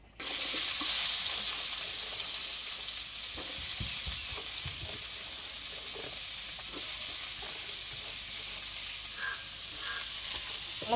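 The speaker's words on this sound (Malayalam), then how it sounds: "കുറച്ച് വെളിച്ചെണ്ണയും കൂടെ ഒഴിച്ചിട്ടേ നമുക്ക് ഈ ഉള്ളി ഒന്ന് വഴറ്റിയെടുക്കണം" Sliced onions sizzle steadily as they sauté in coconut oil in a pan. A few soft stirring knocks and scrapes sound close by, and no one speaks.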